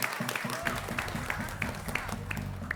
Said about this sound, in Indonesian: Kita berikan tepuk tangan terlebih dahulu.